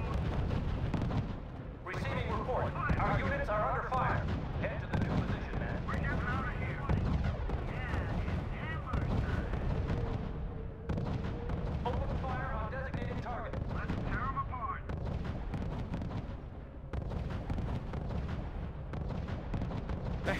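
Dense, continuous rumble of artillery and gunfire in the World War II strategy game RUSE, a loud unbroken barrage with a voice talking over it in bursts.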